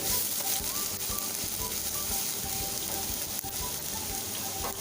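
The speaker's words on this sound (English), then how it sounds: "And potato will be fried in slow flame." Potatoes for Kashmiri dum aloo fry in oil over a slow flame, a continuous close sizzle and bubbling with scattered clinks and scraping, with no talking.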